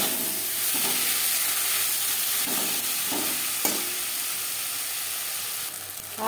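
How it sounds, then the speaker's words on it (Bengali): Ginger paste and green chili paste sizzle steadily in hot oil with onion and garlic, a constant close hiss broken by a few soft stirring scrapes, with no voices. "আদা বাটা, কাঁচা লঙ্কা বাটা, পেঁয়াজ রসুনের সাথে বেশ ভালো করে মিক্স করে দেব"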